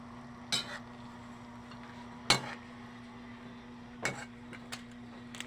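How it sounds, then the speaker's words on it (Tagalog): A utensil stirs soy sauce into adobong kangkong in a pan, giving a few sharp scrapes and clinks spaced out over a low steady hum, with no one talking. "So guys, halo-haloin natin."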